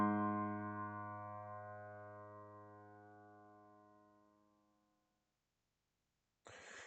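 Virtual piano notes 5 and K from Kingdom Hearts sound together as one chord that decays gradually into silence, followed by a short burst of noise at the end.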